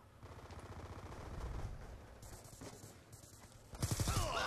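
Gunfire in a Black Ops 2 multiplayer gunfight, heard as fairly faint, rapid bursts of shots in the background that grow louder and sharper near the end.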